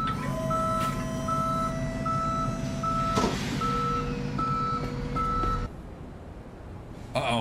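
A tow truck hauling a car in Police Simulator gives off a steady run of reversing beeps over a low engine drone. The beeps come at an even pace and are loud and close, then cut out near the end.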